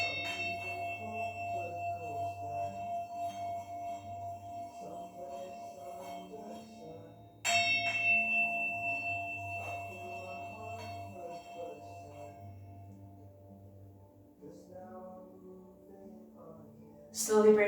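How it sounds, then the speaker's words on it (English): A Tibetan singing bell rings with sustained, shimmering tones, struck again partway through and swelling anew, the resonance slowly fading with a final brighter strike at the end. "Let your mind, your body, and your soul absorb the vibrations of the Tibetan singing bell"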